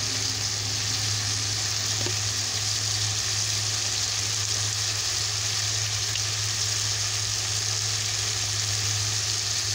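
Spices and chili powder frying in hot oil for a pea curry, giving a steady, close sizzle with a soft hiss that holds for the whole stretch and has no talk over it.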